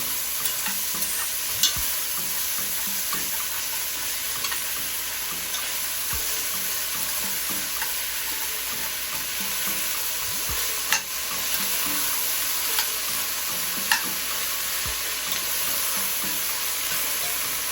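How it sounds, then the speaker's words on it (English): Onions and bell peppers sautéing in a pan, a steady even sizzle throughout with occasional scrapes and stirs of a utensil against the pan, close up and without any talking. "You're going to want to saute these onions and these bell peppers until they are translucent and the bell peppers are tender"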